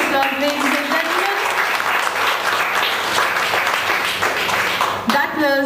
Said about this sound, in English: I think he deserves a louder round of applause, ladies and gentlemen.